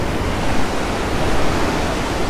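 Stormy sea water surges and crashes inside a coastal grotto at Fiolent near Sevastopol, a loud, dense, continuous roar of churning surf close by with no voices.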